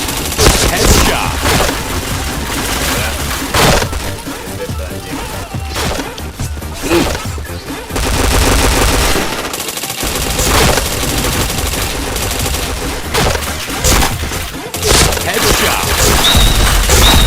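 Loud, rapid gunfire bursts from a shooter video game, near-continuous volleys with brief pauses, mixed with some talk.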